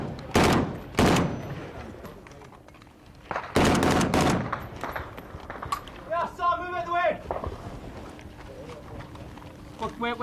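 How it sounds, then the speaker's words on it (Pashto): Small arms gunfire and rocket fire in Afghanistan: several loud, sharp bangs and bursts, with a rapid rattling volley partway through, heard over ongoing speech. "اوس د ټوپک او د راکټ ډزې شروع سوې"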